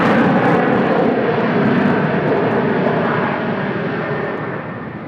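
A Boeing 747 cargo freighter at Seoul Incheon Airport roars loudly and steadily, a broad jet rumble that slowly fades as the aircraft moves away, with no one talking.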